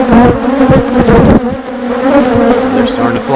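Honey bees fly around an open hive during a beekeeping frame inspection, a dense continuous buzzing swarm close to the microphone that nearly covers a faint voice.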